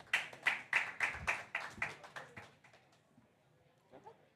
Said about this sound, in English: Let's give a round of applause to Naman from NodeOps